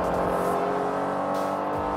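A Honda NSX-R NA2 revving hard while being driven in second gear, a loud, steady, high-pitched engine howl from inside the car that barely wavers, with a faint tire squeal near the end.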